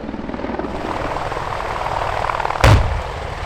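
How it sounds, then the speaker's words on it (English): A 10-ton helicopter flying an aerobatic display at RAF Cosford Airshow, its loud, steady rotor drone filling the air, with a sharp bang-like burst near the end. "the 10-ton helicopter can be flown back over its right shoulder through 360 degrees"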